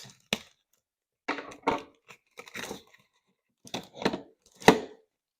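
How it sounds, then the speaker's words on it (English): Scissors snip through stiff plastic packaging in a handful of short, crisp crinkling cuts separated by brief pauses, close by and fairly quiet. "Use our trusty pink scissors."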